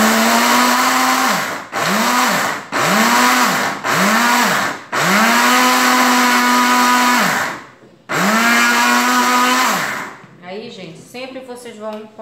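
Kitchen blender pulsing a thick homemade mixture in five or six short loud bursts with brief pauses between, ending with a longer run, then a few clinks and scrapes.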